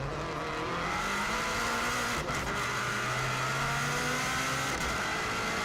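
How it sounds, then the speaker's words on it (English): A 2016 Subaru WRX STI braking hard and downshifting into second gear on the Isle of Man TT course, heard from inside as a steady engine drone with shifting tones and a brief blip, fairly quiet and alone. "real hard braking all the way down into second gear for Ramsey Parliament Square"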